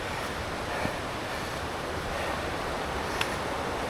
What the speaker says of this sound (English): I love the sound of the water running next to me.